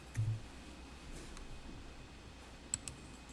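Mouse clicks on a load button in accounting software, faint and close: one soft click near the start and a sharper pair of clicks later, over a quiet room hum.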